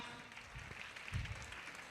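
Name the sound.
applause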